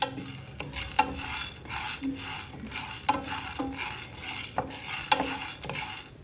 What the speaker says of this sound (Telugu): దీన్ని ఇప్పుడు డ్రై రోస్ట్ చేసుకోవాలి మనం